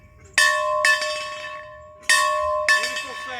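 Paired strikes of one bell sound up close, four bright clangs in two quick doubles with lingering ringing decay and a faint creak between them.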